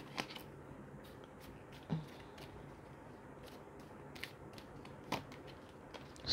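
Tarot cards being shuffled very softly, with faint scattered papery ticks and light taps over a quiet, hissy room background.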